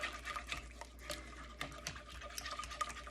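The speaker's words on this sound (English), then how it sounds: "Now stir this in really good." A spoon stirs homemade chocolate syrup in a pot, giving soft, steady scraping and gentle liquid swirling with faint clinks, close and quiet, with no talking.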